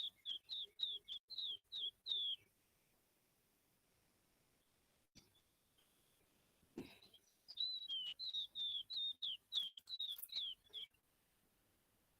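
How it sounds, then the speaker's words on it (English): Oriental white-eye singing in a backyard: a fast series of thin, high chirps in two bursts separated by a quiet pause, fairly close and clear, with no talking. "This is a oriental white-eye."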